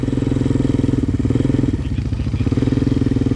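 Motorcycle engine running hard with steady throbbing revs while hill climbing at the Black Mountain Scramble Area in Cheboygan, loud and close throughout, with a brief dip in the middle.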